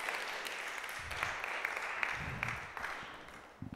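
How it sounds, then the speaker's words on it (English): An audience at a talk on Indigenous women applauds with a steady wash of clapping that holds throughout and fades slightly toward the end, moderately distant. "Maybe one more round of applause for Yeshing."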